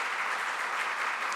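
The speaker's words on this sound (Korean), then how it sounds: "우리 하나님께 감사 박수 드리고 한번 시작했으면 좋겠습니다" A church congregation claps in thanks at a Thanksgiving special dawn prayer service, a steady, dense wash of many hands sustained throughout without pause.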